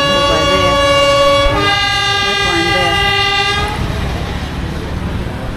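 Uganda Railways passenger train pulling out of a station, heard from inside: a loud sustained horn blast for several seconds, then rumbling wheels and carriage noise as it moves off.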